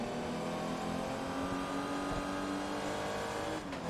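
A race car engine in Forza Motorsport 2 drones steadily at high revs, a continuous loud mechanical roar with a brief shift in pitch near the end.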